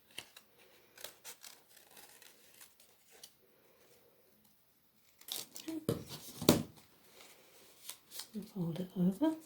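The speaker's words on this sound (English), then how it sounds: "cut just inside the line so that you don't see the line that you've drawn" Scissors snipping through paper while cutting out butterfly wing shapes for a collage, a run of short crisp cuts and rustles, faint and sparse at first, then louder and busier near the end.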